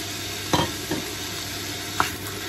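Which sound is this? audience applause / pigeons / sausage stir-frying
sausage stir-frying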